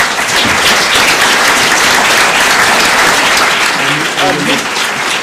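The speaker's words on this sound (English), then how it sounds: "I would like to all of you just to give applause to our panel" An audience applauds the panel at the close of a panel discussion on full employment policy, steady loud clapping throughout with a few voices faintly mixed in near the end.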